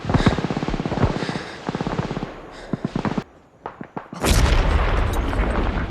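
Rapid bursts of automatic gunfire crackle alongside heavy booming explosions in a war film battle against German troops, with a brief lull of scattered shots before a loud, sustained blast of noise.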